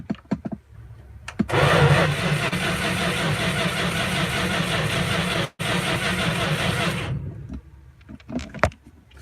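Carbureted 2-barrel V8 cranking over at length, a loud continuous churning drone of the starter that runs several seconds with a brief break, ending without catching, with short clicks and knocks before and after.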